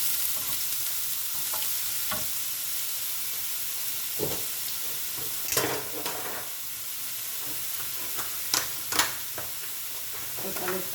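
Lardons for a courgette quiche sizzle and hiss in a pan, with scattered scrapes and clinks of a utensil stirring them over a steady frying crackle.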